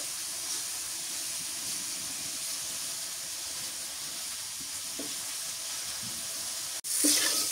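Eggplant frying in oil in a pan: a steady, close hiss and sizzle that holds evenly throughout, ending in a sudden louder crackle near the close.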